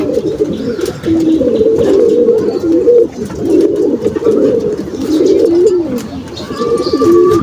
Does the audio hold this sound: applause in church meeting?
no